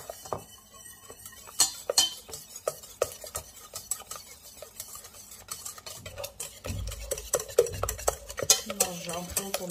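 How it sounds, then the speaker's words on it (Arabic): Basbousa batter of sugar, eggs and oil being stirred in a bowl with a utensil, giving close, continuous scraping and clinking strokes in an irregular rhythm with no talking. "نرجعو نخلطو مزيان"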